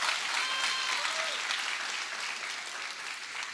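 A church congregation applauds during a sermon, a dense, even patter of clapping that runs steadily throughout and eases slightly toward the end, with no voices over it.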